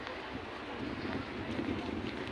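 Steady wind buffets the microphone with a continuous rumbling rush, loud and close, with no voices.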